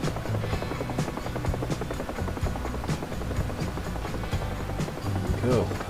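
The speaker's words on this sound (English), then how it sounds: "Flying the helicopter a little bit more." A helicopter flies in the DCS flight simulator, its steady rotor chop and engine drone continuous and loud throughout, with a voice talking over it.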